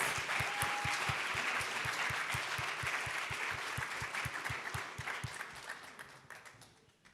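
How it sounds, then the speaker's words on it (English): An audience applauds jury members at the Berlinale independent juries award ceremony, a steady wash of clapping with distinct rhythmic claps near the front. It holds for about seven seconds and fades toward the end. "Please give them a round of applause and welcome to the stage Maya Holek."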